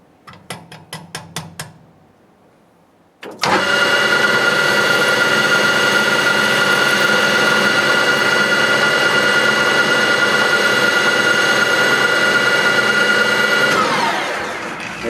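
A lathe taking a facing cut on a metal part: a few brief clicks and a pause, then the machine starts abruptly into a loud steady whine with a continuous hum that runs for about ten seconds before easing off.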